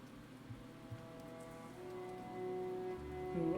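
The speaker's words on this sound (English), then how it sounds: "Little raindrops." Light rain falls steadily with small raindrops pattering on a surface, a soft continuous hiss that grows slightly louder toward the end, with a low rumble underneath.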